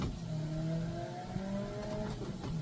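A race car engine in a racing video game, played on a Logitech G29 wheel, revs and shifts with rising, stepping tones, moderately loud and close, heard alone.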